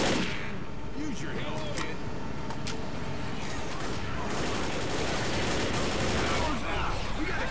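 Rapid, continuous gunfire in Left 4 Dead as players fight off a zombie horde during the Crash Course truck depot finale, dense overlapping shots with chaotic game noise and a voice talking underneath.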